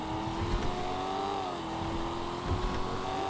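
Sustained car engine revving from a vehicle in GTA 5, a steady loud drone with rising and falling pitch sweeps and a couple of deeper surges, heard alone without talk.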